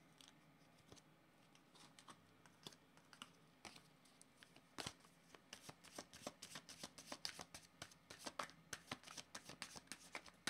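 A deck of oracle cards shuffled by hand, giving close, quiet papery flicks and taps that start sparse, then speed up into a quick, steady run of crisp riffles, with no voices.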